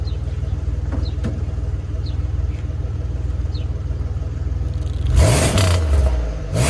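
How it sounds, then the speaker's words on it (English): A 2004 Impala LS with automatic transmission idles with a steady low rumble, then gets a single sharp rev that surges loud and rises in pitch before falling back toward idle. "I'm gonna give y'all some revs"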